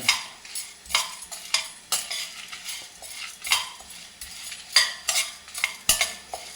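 Chickpeas being dry roasted in a pan without oil, with a steady run of scraping, rattling stir strokes, close and crisp, repeating about every half second with no talk.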